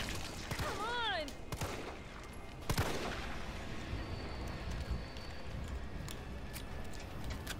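Resident Evil 3 shotgun blasts boom amid a busy, noisy game scene, with a sharp loud report near the middle and scattered impacts over a constant rumbling background.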